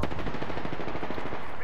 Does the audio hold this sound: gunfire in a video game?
yes